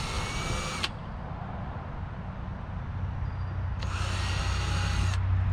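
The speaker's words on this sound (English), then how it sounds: "now that I've got all the pilot holes drilled" A power drill bores pilot holes for a 5-inch deck plate in a Perception Outlaw 11.5 kayak, whining steadily in two close, loud bursts separated by a low mechanical hum and room noise.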